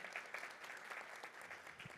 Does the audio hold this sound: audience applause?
yes